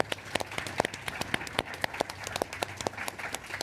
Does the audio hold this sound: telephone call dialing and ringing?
no